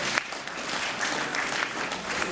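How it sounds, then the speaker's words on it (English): An audience claps steadily, a dense, even wash of applause throughout with no voices standing out. "give yourself a round of applause for where you're at"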